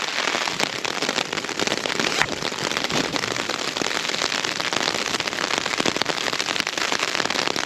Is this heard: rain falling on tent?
yes